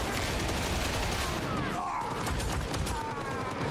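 A laser rifle firing in the video game Warhammer 40k Darktide, a rapid, steady stream of sharp shots layered over constant combat noise, loud and sustained across the whole stretch.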